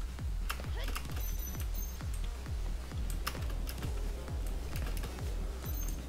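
Keyboard keys clicking on a PC during RKGK gameplay, a steady run of small taps over a thumping beat of game music, with some talking.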